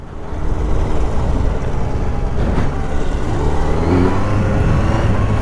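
Loud, steady engine rumble idling close by, with the pitch rising slightly partway through as the motorcycle revs a little.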